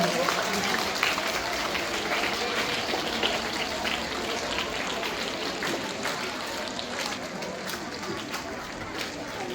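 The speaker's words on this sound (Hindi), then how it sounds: "जोरदार तालियां" An audience at an Urdu school reception claps loudly for a best-teacher award, a dense, continuous roar of hands that fades slightly toward the end, with voices mixed in.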